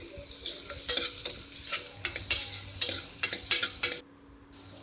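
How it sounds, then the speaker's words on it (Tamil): Chopped small onions (shallots) sautéing in a pan for a lamb trotter curry, a soft close sizzle broken by repeated scraping strokes of a spatula, then quieter frying at the end, no talking. "இப்போ வெங்காயம் நல்லா ஓரளவு நல்லா வதங்கணும்."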